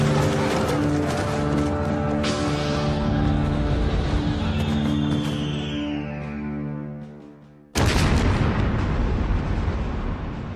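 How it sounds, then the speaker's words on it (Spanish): Huge blast as a shell strikes the command tower of the ironclad Huáscar in a naval battle, a long roaring explosion with sustained rumbling that fades before a second sharp burst erupts and rumbles on. "La torre de mando del Huáscar estalla pulverizada por un disparo."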